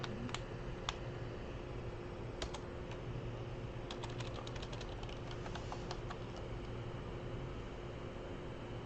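A computer keyboard clatters with irregular key clicks against a steady hum, typing into a chat, with a denser flurry of strokes midway through.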